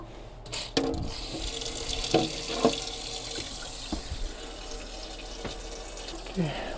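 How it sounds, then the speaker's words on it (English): Tap water runs steadily into a DIY Sprinter van's dishwasher and its pipes, a continuous splashing wash with a few louder knocks and clunks over it. "Okay, water coming down."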